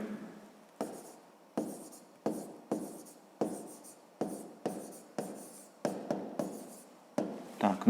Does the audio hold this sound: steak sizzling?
no